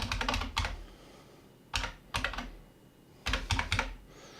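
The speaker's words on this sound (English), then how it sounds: "I'm sorry for my typing." Bursts of typing on a computer keyboard, close and moderately quiet, with rapid key clicks in short clusters separated by pauses and no speech.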